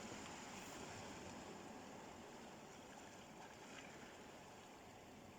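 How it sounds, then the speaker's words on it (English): Waves lapping on a shore make a steady, soft wash of water, even and continuous without distinct breaks, faint and unbroken throughout. "You've enjoyed, I hope, listening to the waves lapping."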